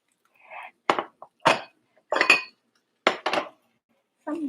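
Dishes and a bowl clink in a kitchen during chicken breast meal prep, in several short, separate knocks and chinks spaced out over a few seconds, close and fairly quiet.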